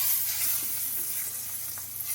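Merlot sizzles and bubbles steadily in a hot pan as it deglazes the browned bits left from searing beef for a pot roast, a continuous close frying hiss with faint stirring scrapes and no talk.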